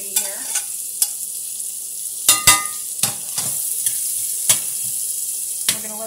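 Half a yellow onion hits a hot pan for an apple butternut squash hash, giving a continuous close sizzle broken by several sharp clinks and scrapes of stirring. No one speaks.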